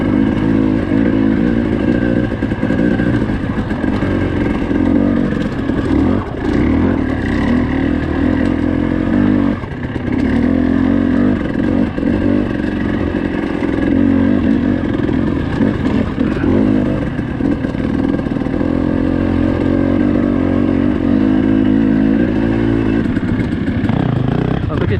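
A dirt bike engine ridden in the desert at Hemmingway Butte makes a loud, continuous close-up drone that rises and falls with throttle changes, with occasional rattles, and a voice speaks intermittently over it.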